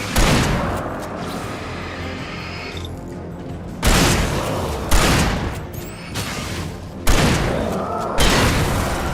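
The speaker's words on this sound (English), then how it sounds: "And shotgun." Shotgun blasts in the video game Alan Wake boom out in a few heavy, spaced shots, each a loud close burst with a decaying rumble between them.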